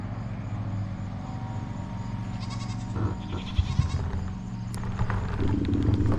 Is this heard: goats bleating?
yes